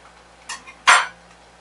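Knife working a firm raw vegan tarragon and mustard cheese out of its mould, a light tap followed by a louder scraping clack, close and otherwise quiet.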